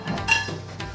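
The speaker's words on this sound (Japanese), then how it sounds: "鉄鍋。 重い。" A heavy iron pot handled at home gives off a few sharp metallic clanks and clinks, close and distinct, spaced irregularly across a brief moment.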